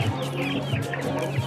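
Chickens being sold at a market for religious rites cluck in repeated short bursts over steady low background noise, with no one speaking.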